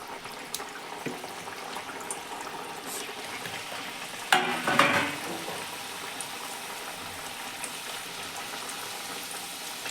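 Papdi dough rounds deep-frying in hot oil, a steady close crackling sizzle throughout, rising into a louder bubbling burst midway as they are stirred, then settling back.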